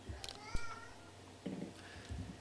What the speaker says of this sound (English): I'm going to get rid of Mr. Cat.